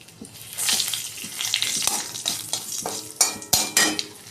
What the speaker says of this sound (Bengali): তেলে শুকনো লঙ্কা, জিরে আর তেজপাতা ফোড়ন দিয়ে দিলাম।